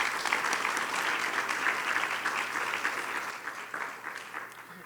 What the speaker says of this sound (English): please offer applause to both candidates for their willingness to answer your questions tonight